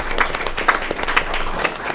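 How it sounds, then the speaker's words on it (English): People in a city council meeting chamber applaud, a steady rattle of many hands at moderate loudness with a few sharper claps poking through, continuing evenly for about two seconds without talking. "I hope we can all just give her a round of applause for all the sacrifice that she's given."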